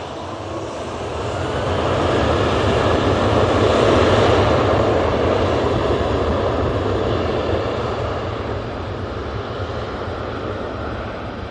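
A Jet2 Boeing 737-800 airliner departs Manchester Airport for Skiathos, its engine roar swelling to a broad, steady peak and then slowly easing while staying strong throughout, with no voices over it.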